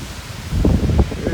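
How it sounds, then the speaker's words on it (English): Wind gusting around a campsite at Chance Cove Provincial Park, a low rumbling buffet on the microphone with rustling surges that swell and fade, close and fairly loud. "it's windy, man."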